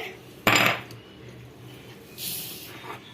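Chana dal and rice tipped into a metal pot with a small bowl, giving one sharp clattering clink followed by faint scraping and a soft rattle of grains, with no talk.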